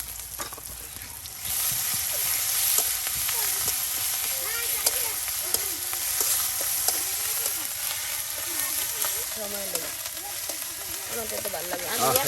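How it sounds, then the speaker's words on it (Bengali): Onion, garlic, chopped chili and ground spice paste with ginger and cumin sizzling in oil, a steady close frying hiss with occasional stirring scrapes and light clinks. "ভালো করে কিন্তু ভেজে নেওয়া হচ্ছে পেঁয়াজ, রসুন, তার সাথে আপনার মরিচ কুচি ও বাটা মশলা একসাথে সব তেলের সাথে ভেজে নেওয়া হচ্ছে"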